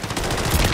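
Gunfire in the video game Warzone: a single dense, loud, close blast that fills the whole brief moment.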